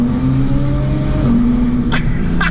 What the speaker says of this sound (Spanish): No mames cómo suena ese coche. Escuchen.